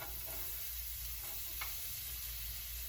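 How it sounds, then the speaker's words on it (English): Minced garlic, onion and celery sauté gently in a pan for vegan dirty rice, a soft continuous sizzle under a low steady hum with a faint stir or two, no speech. "So this is gonna saute, keep, kind of stirring it, moving it around for 5 minutes."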